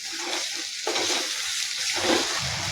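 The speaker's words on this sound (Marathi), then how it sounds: "आता ते आपण कारले टाकून घेऊ। छान मिक्स करून घेऊ।" Chopped bitter gourd being stirred into hot spiced oil, a close crackling sizzle with scraping spoon strokes against the pan, short bursts over a steady frying hiss.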